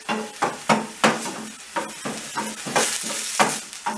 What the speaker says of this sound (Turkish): Soğanları kavururken bir kapta da sıcak su istiyorum